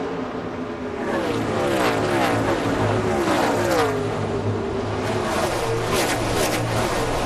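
NASCAR stock cars roar past at The Winston in 2003, with Jimmie Johnson's number 48 Lowe's car out front. The engines make a loud, continuous drone with rising and falling pitch as the cars sweep by.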